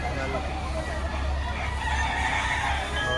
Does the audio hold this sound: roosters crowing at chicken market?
yes